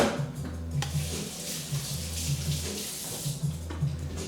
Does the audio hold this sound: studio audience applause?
no